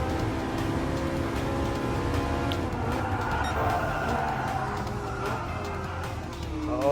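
A Gran Turismo Sport race car's engine drones steadily at racing speed, with some tire noise, as it passes a Dodge Viper on the way into a corner; the sound is continuous and fairly quiet, with no talk.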